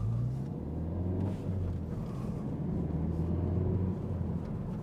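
A driving instructor's car pulls away from a junction, a steady low engine rumble heard from inside, quiet and continuous with a slight rise as it moves off.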